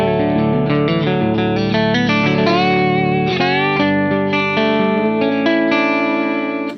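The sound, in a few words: slide guitar through DIY clone compressor pedal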